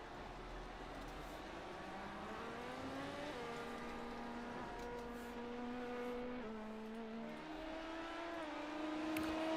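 In a racing video game at Watkins Glen, an LMP2 race car's engine revs up through the gears as it accelerates out of the pit box, a steady rising whine with a faint hum beneath.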